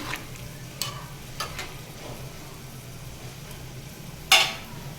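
Crushed ginger fries in hot oil for a vegetable dish, a soft steady sizzle with a few light stirring scrapes and one sharp clink near the end, no talk.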